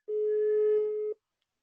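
A telephone tone sounds once during a call, a steady pure beep lasting about a second and then silence. It is clean and moderately loud with nothing else heard.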